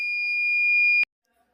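A steady high-pitched electronic buzzer tone from a homemade infrared burglar alarm project sounds loudly and continuously for about one second, then cuts off abruptly into near silence.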